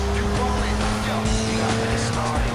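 A car driving in Need For Speed Most Wanted (2005): a loud, steady engine drone with tire squeal layered on top, continuous and close throughout.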